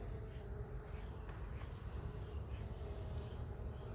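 Honey bees buzz steadily during a hive inspection, a dense, continuous drone of many insects around the newly built comb, with no talk over it.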